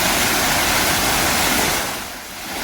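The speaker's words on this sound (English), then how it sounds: "The splashing of water at this fountain at the center of the town is a reminder of what life used to be here" Water splashing steadily in a fountain at the center of a quiet town, a continuous broadband wash that holds near and even, easing slightly toward the end, with no voices.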